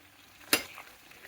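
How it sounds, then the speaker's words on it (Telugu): A spoon scrapes once sharply through a pot of sambar rice (bisibele bath) as it cooks, a quick clink and scrape over a faint sizzle, with softer stirring sounds trailing after. "బాగా కలుపుకొని ఇప్పుడు"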